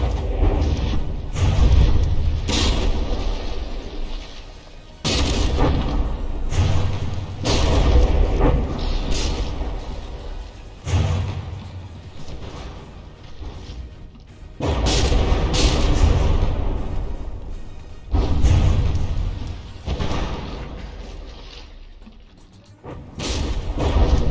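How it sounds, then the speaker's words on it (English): Heavy artillery shells from battleship turrets landing and exploding in From the Depths, a long series of loud booming blasts and crashes with rumbling mechanical background between impacts. "A few more shells landing in that area, and that turret will be blown to bits."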